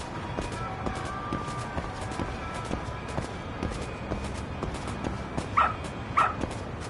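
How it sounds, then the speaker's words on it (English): A dog in the video game Lost Judgment gives two short, fairly close yips over a steady bed of game ambience and faint footsteps. "Good dog. Very good dog."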